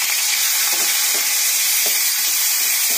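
Shrimp frying in hot oil with radhuni spice tempering, giving a loud, steady sizzle with a hissing spatter throughout and faint stirring scrapes underneath, with no talk.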